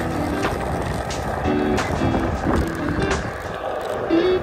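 Electric Onewheel boards roll along at a music festival campsite, a loud steady rumble with whining motor tones rising and falling close by, under faint background voices.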